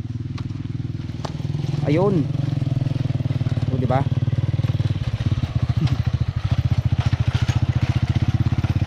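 A motorcycle is lifted and carried along a rough, difficult road, its engine chugging loudly and continuously with a rattling, uneven rhythm that grows choppier later on, while people's voices cut in briefly over it.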